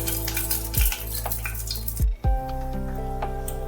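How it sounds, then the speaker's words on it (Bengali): Ripe red chilies go into hot mustard oil in a wok, giving a steady close sizzle with a few sharp clatters and bumps of a utensil against the pan. "সর্ষের তেল অল্প গরম হলে আমি এখানে পাকা লঙ্কা দিয়ে দিচ্ছি"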